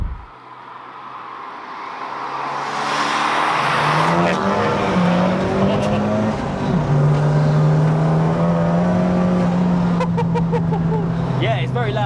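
A 350 BHP Ford Focus ST MK3 track car is heard from inside the cabin as the engine revs and climbs loudly through the gears, with a raw, droning exhaust and tire noise, while people talk over it.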